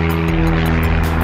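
A propeller airplane passes overhead, a loud, steady droning engine hum with a pulsing beat that fills the whole moment outdoors.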